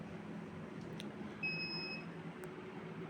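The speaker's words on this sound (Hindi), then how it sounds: "तो ये जो है अलार्म करता रहता है काफ़ी हद तक, और बताता रहता है कि आपका टेम्परेचर कम हो रहा है" A short, high electronic low-temperature alarm tone from a 448-egg incubator sounds once over a constant low mechanical hum, with no talking.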